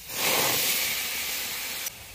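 Water from rinsing carrots hits a hot wok and bursts into a loud, sustained steam hiss that holds steady and then cuts off sharply near the end.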